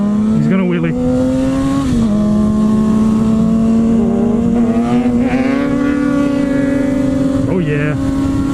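A Kawasaki Z1000 motorcycle engine holds a loud, steady, buzzing drone up close during a highway wheelie, its pitch rising and dipping slightly as the throttle shifts.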